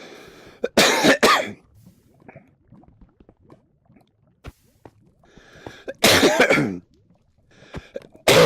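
A man coughs in two loud, harsh bursts, the first a quick double cough and the second a longer fit a few seconds later, with quiet shuffling and small clicks in between.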